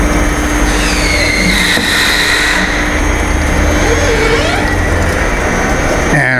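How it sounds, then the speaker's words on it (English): A screw press dewatering fabric fiber, driven by a small electric motor, runs with a loud, steady mechanical grind, a constant hum and high whine, and faint ratcheting and scraping throughout. "And so this is the operation."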